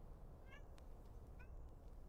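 Cat in the video game Chants of Sennaar gives two short, faint meows about a second apart over a low ambient hum.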